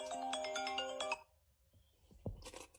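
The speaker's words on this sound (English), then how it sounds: "But now you see he got a phone call." A phone rings with an incoming call, a bright melodic ringtone repeating for about a second before it stops, followed by quiet handling noises and a faint thump.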